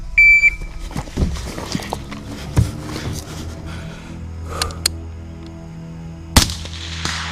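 A precision gas gun rifle fires on a shooting stage at long-range targets, with loud sharp reports and brief ringing. A timer beep comes first, followed by several spaced shots.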